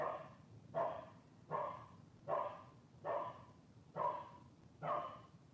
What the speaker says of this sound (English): can you guys hear my dog? Is she bothering? She's pretty loud.